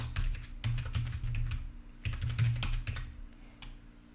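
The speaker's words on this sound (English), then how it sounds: "And I'm going to type in the title for this assignment" Typing a title on a computer keyboard gives quick clusters of close, crisp key clicks in two bursts with short pauses, alone.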